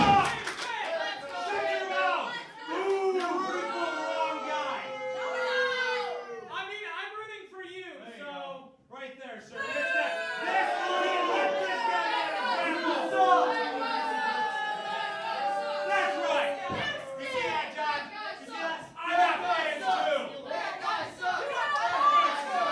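A wrestling crowd at an IWE World Title match between Gentleman John Campbell and Will Vendetta chants and cheers continuously, loud and dense, with rhythmic shouted chants over steady crowd chatter.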